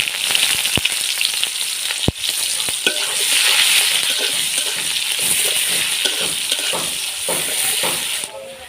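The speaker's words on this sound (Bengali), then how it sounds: "এখন দিয়ে দেব পেঁয়াজ কুচি।" Chopped onion hits hot oil in a pan already tempered with bay leaf, cardamom, cinnamon, cloves and whole cumin, for a pointed gourd and prawn curry. A loud, steady sizzle runs throughout, with sharp clicks of stirring.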